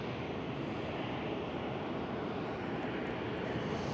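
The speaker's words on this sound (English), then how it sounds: "737 of Transavia departing runway 24" A Transavia Boeing 737 departs runway 24 at Amsterdam Schiphol, a steady broadband jet roar mixed with wind noise, sustained and fairly loud throughout.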